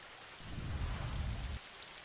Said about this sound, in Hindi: बारिश के आने से